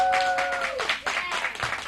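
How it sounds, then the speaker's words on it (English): A studio audience at a small first-episode show bursts into brief applause, a short flurry of clapping with a voice trailing off at the start. "You all can clap."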